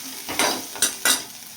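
Bitter gourd pieces stir-fried in a kadai, with three distinct scraping strokes of a spatula over a soft sizzle, close and fairly loud, no voices.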